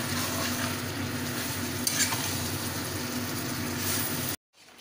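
Chicken frying in a pan with a steady, close sizzle and intermittent scraping of a stirring utensil, continuing evenly before cutting out abruptly near the end.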